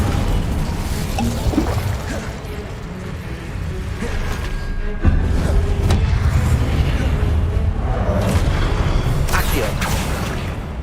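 Incendio fire spell cast in Hogwarts Legacy, a loud continuous whooshing burst of game effects with booming, crackling layers that swell midway through and keep going to the end.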